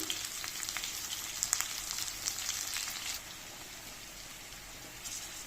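Hilsa fish sizzling and frying in oil in a pan over high heat, a steady dense crackle with brief louder spits, close and continuous with no talk.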